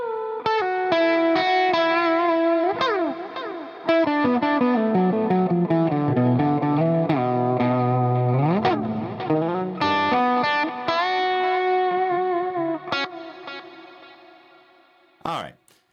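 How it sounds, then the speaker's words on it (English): Electric guitar run through delay and reverb in series and parallel, ringing chords and melodic notes with long echoing repeats and a lush wash of reverb that fades out near the end. "let's go ahead and listen to it with series and delay and reverb in series and parallel"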